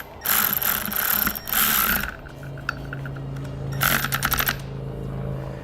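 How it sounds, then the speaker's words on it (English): Ratchet fitted with a 7/32 Allen socket tightening a bolt while installing SumoSprings helper springs on a truck, giving two long bursts of rapid close clicking separated by a pause, then a third shorter run of clicks. "Then we can grab a 7/32 Allen socket and tighten it up."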